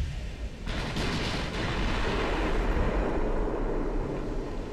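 Naval gunfire from the Ultimate Admiral: Dreadnoughts warship game, a deep rumbling boom rising to a sustained roaring barrage that rolls on with no voices.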